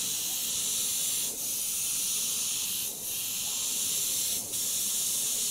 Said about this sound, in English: Okay, now spraying tone 2.